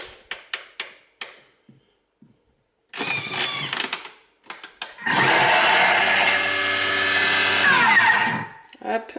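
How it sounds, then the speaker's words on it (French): Food processor blending parsley, onions, cider vinegar and olive oil: a few short pulses, then a loud, steady motor whir lasting about three seconds before cutting off, with brief clicks and handling around it. "je vais mixer pendant 3 secondes"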